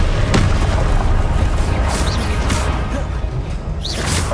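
Confringo blasting-spell explosions in the Hogwarts Legacy video game, loud booming blasts with whooshing bursts rolling one into another over a dense, continuous roar.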